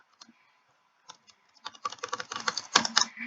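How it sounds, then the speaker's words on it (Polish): Computer keyboard keys clacking, a few isolated taps at first, then a rapid, loud flurry of repeated key presses building toward the end. "Escape! Klikam te escape."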